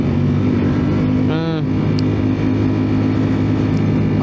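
Ducati Panigale V4S (2024) sport motorcycle at riding speed, its engine and exhaust a steady loud drone throughout, with a brief rising whine and a person speaking briefly over it.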